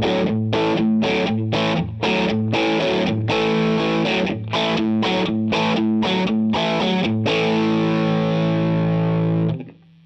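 Electric guitar played through a Klon overdrive pedal, a driven rock-country rhythm of steady chopped chords for about seven seconds, then one long chord ringing out loud and close before cutting off.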